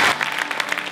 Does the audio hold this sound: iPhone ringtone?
no